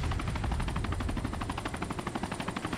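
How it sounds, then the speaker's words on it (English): Rapid, loud automatic gunfire rattles steadily in a video game firefight, a dense run of close, evenly spaced shots. "Stop shooting the rockets."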